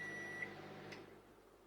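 Samsung MS23F300EEK microwave oven finishing a defrost cycle: a steady electrical hum with a brief tone near the start, fading slightly as the run ends.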